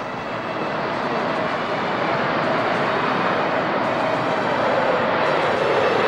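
Loud, steady roar of an F-18 Hornet's twin General Electric turbofans during a short takeoff run at an air display, a dense broadband rush that builds slightly and holds throughout, with no speech.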